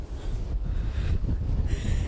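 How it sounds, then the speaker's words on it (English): Strong wind gust in a New Bedford snow blizzard, rough low-frequency buffeting roar against the microphone, loud and continuous with rising pushes, no voices. "we just had an enormous gust of wind that honestly almost knocked me over"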